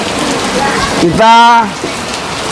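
Heavy rain falls as a steady, loud hiss outside near a mosque where a family waits to be baptized, with a person speaking briefly over it.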